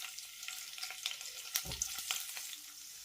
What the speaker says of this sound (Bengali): তেলটা গরম হয়ে গেলে প্রথমেই দিয়ে দেবো রসুন কুচিটা।